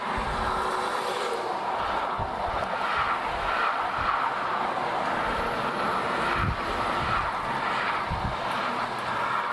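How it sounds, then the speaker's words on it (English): Steady, close traffic on a busy road beside a broken-down Porsche 911 on the shoulder: cars whiz past in an unbroken, loud rush, with individual passes surging and fading through constant road roar. "You can see all the cars whizzing by while I wait for CHP and my tow truck."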